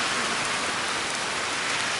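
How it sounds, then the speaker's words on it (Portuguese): Heavy summer rain pouring down in Campos do Jordão, a dense, constant hiss of drops hitting surfaces all around, loud and close with no pauses and no talk. "Eita, que a chuva pegou."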